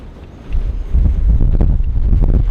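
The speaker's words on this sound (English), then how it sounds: "in hopes of getting even the smallest break from the wind" Strong wind gusting across a desert valley in Death Valley, a loud, steady low roar buffeting the microphone and building after the first half second, with no voices.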